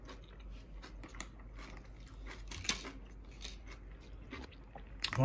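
Crunchy Miyama brand kimchi from a Japanese market is chewed close up, giving quiet, irregular crisp bites and wet mastication sounds with occasional sharper crunches.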